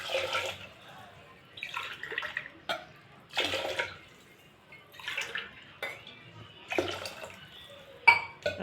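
Water is poured from a cup into a pot of carrots, beans, peas and potatoes for bisi bele bath, in several short splashing bursts with quiet pauses between them. No one speaks.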